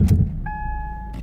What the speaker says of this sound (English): So, let me start the car.